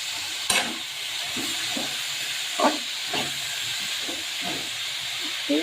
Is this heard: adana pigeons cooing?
no